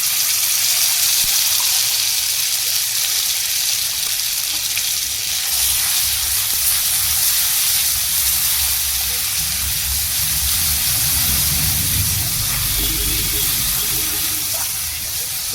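Spice paste, seasoned with a little salt, green chilli and turmeric, fries in a pan for a vegetarian eggplant curry, giving a steady broad sizzling hiss that swells slightly toward the end.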